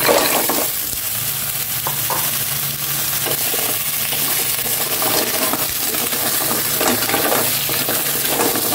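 Mussels stirred in a frying pan hiss and sizzle steadily while the spoon scrapes and the shells clatter and clink. The sound is close and continuous, with no talking.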